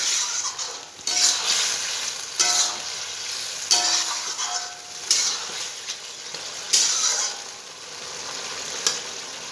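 Cauliflower and potato being stirred in a hot pan for a Bengali koi fish curry: a steady sizzle broken by scraping stirring strokes about every second or so, close and moderately loud, with no talking.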